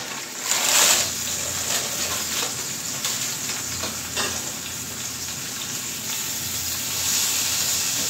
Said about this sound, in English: Because I can still hear that sizzle